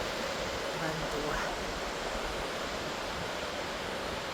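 Atlantic waves roar steadily as the tide comes back in along a wild Irish shoreline, a dense, unbroken wash of surf close by, with a brief murmur of voices early on.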